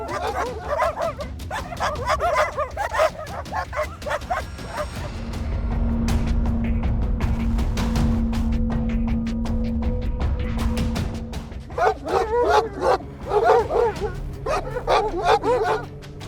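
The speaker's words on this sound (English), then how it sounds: "This is where hunting dogs come into their own." Hunting dogs barking and yipping in a burst of excited calls during a hog chase, with a steady engine-like drone underneath in the middle and more barks returning near the end.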